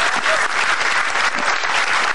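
A studio audience claps in sustained, dense applause at a stand-up comedy TV show, loud and steady for the whole stretch, with no one speaking over it.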